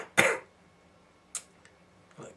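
A person's voice imitates a phlegmy throat-clearing from the back of the throat: a few short, raspy, hacking bursts separated by pauses, near and fairly loud.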